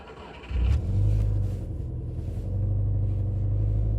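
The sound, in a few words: Subaru car engine starting and idling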